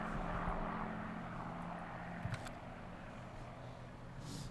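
Propeller planes passing overhead in the farming game Farming Simulator 19, a steady, faint engine drone that stays even throughout, with a brief soft click partway through.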